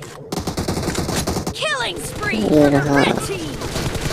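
Rapid automatic gunfire bursts from the mobile shooter Battlegrounds Mobile India, loud and repeated over game music and effects, with someone talking throughout.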